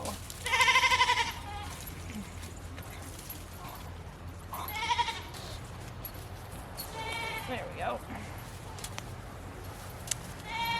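Goats tethered along a fence line bleat in several loud, wavering calls spaced a few seconds apart, with someone speaking briefly in between and outdoor background noise.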